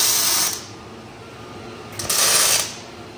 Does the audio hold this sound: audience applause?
no